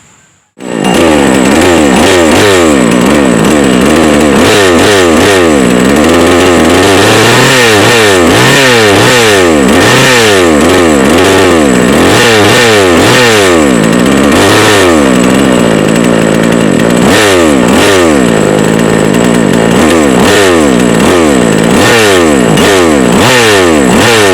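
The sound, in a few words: mini chainsaw engine started and running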